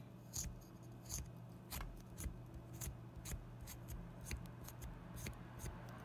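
A regular spoon scrapes the peel off a piece of ginger in quiet, repeated short strokes, roughly two per second, close and faint.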